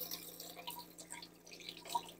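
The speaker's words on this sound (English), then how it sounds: "Then I always run it back under just a little bit of water." Tap water runs briefly over a freshly cracked boiled egg, its shell broken at the fat end, producing a soft, close trickle with small drips, faint and steady without any talking.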